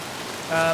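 Steady rain falls in the survival video game Soulmask, a continuous hiss of drops, fairly loud, with a brief tonal game sound near the end.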